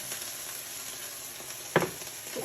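Ground beef sizzles steadily in a hot pan for a pasta e fagioli, with a brief clatter of stirring near the end and no voices.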